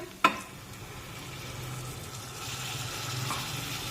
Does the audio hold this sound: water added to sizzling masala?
yes